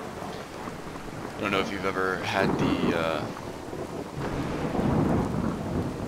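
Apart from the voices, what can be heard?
thunderstorm with thunder and rain in woods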